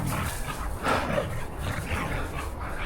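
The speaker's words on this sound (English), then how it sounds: "there's 2 dogs playing in the snow in the bamboo." Two dogs playing in the snow among bamboo near the Annapurna trail in Nepal, giving soft yips and whimpering barks at a distance over steady outdoor wind noise.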